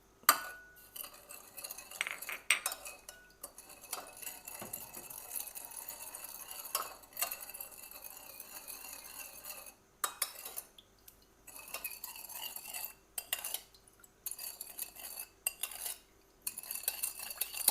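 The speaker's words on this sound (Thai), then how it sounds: "คนให้มันเข้ากันให้น้ำตาลละลายดีๆ เลยนะครั" A spoon stirs sugar into a Thai green mango salad dressing in a bowl, with light repeated clinks and scrapes of metal on the dish coming in uneven bursts, close and fairly quiet.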